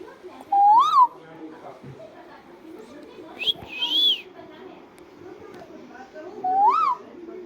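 A talking myna gives three short rising whistled calls imitating a cuckoo, spaced a few seconds apart, close and clear over low indoor background noise.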